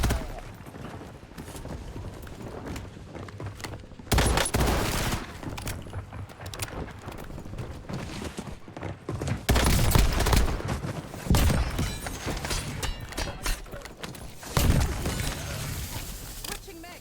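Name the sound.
dual Vertox 5.7 pistols firing in video game Rebirth Island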